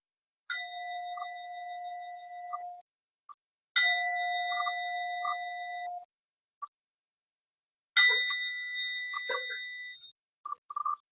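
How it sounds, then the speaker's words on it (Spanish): Zen meditation bell struck three times, each ring bright and clear, sustaining with a long fading tone into silence between strikes, close and alone with faint small knocks after. "Vamos a empezar oyendo el sonido de la campana."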